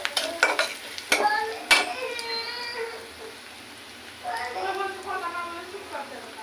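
Onions and chilies fry in a pan with a soft sizzle and a scraping stir, broken by a few sharp clinks of utensil on the pan, close by while a voice talks over it.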